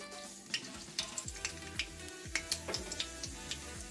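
A pinch of nigella seeds crackles in hot mustard oil in a pan, with a quiet bed of sizzle broken by a string of sharp pops and ticks at irregular intervals.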